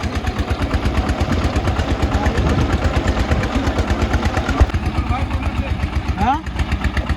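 A tractor engine idles in a field during sowing, with a loud, steady, rapid chugging pulse throughout and a person talking over it.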